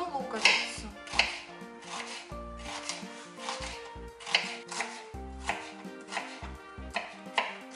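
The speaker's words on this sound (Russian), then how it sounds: "порезать луковицу. Режем на полукольца" A knife chops an onion into half rings on a cutting board, a steady run of sharp close taps at a quick, slightly uneven rhythm with no voices.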